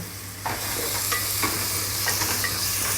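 Curry leaves drop into hot oil for a spring onion and egg curry, setting off a sudden close sizzle that continues as a steady crackling hiss, with light stirring clicks and no talk.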